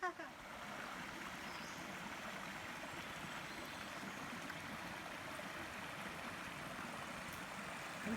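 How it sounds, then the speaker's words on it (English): Elk Creek, a forest tributary stream on the Olympic Peninsula, gives a steady, even rushing flow of water throughout, moderately near with no voices. "And this creek is a tributary to the Palawa River"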